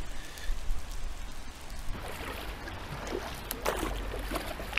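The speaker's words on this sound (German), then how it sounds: "Als der Regen weniger wurde," Rain falls on a river near a bridge during a canoe trip on the Ruhr, a steady soft hiss of drops with low rumble, quiet and continuous, with brief brighter patters of water toward the end.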